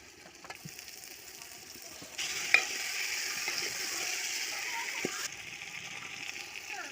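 Marinated mutton pieces hit hot oil already seasoned with turmeric and Kashmiri chilli powder, setting off a steady broadband sizzle that swells loudly partway through, with occasional scrapes and clinks of stirring.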